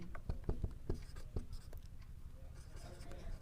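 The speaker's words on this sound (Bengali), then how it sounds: "লিখে দিচ্ছি" Pen writing on paper while a geometry problem is worked out, close, crisp scratching strokes with a quick irregular rhythm and no talk.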